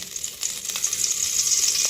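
Ghee sizzles and crackles in a heated kadai at the start of cooking chicken do pyaza, a steady close frying hiss that grows slightly louder over about two seconds, with no talk.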